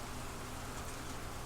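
Steady, soft rain pours at night in the video game Cemetery Mary, heard from shelter beneath a mausoleum's roof trim as a continuous even hiss with no distinct drops standing out.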